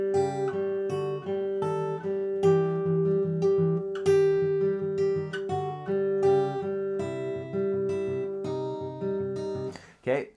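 Part of a song played fingerstyle on guitar: a steady flowing picked pattern of ringing notes and bass lines, close and clear for about ten seconds, ending with a brief rough strum or string noise.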